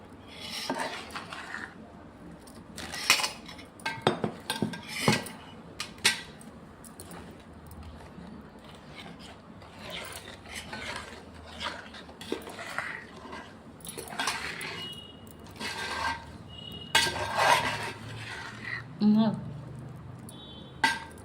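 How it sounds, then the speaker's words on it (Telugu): A spoon scrapes and clinks against a bowl as spice powder is mixed into mango pickle, in intermittent stirring strokes with a voice talking nearby. "ఇదైతే ఈ పౌడర్ని ఇందులో కలపాలి."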